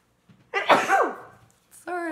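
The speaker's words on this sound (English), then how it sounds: "Oh, I have to sneeze." A single loud sneeze with a sharp intake and burst, followed after a brief pause by a short spoken word.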